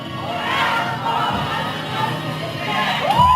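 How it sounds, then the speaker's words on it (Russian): A large crowd of parents and teachers at a school graduation ceremony in Izhevsk, Russia, cheers and shouts together in a loud, sustained roar, rising again toward the end. "И вот эти бурные аплодисменты в ответ от родителей и ваших учителей вам"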